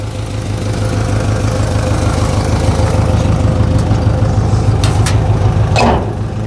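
Engine of a 1972 Saab 95 wagon, not quite set up right, runs steadily up close, a loud continuous low rumble with a faint tick or two near the end.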